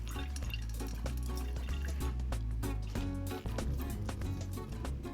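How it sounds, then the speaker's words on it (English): Liquid is squeezed out of wilted cucumber as a kitchen step for tzatziki, giving a continuous, close patter of dripping and trickling water over a low, steady background. "Looks like my cucumber is nice and wilted and ready to squeeze."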